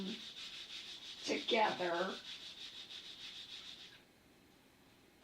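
Brisk rubbing of glued paper layers pressed onto a handmade trifold card, a short scratchy swipe over a steady background hum, with a brief spoken word at the end.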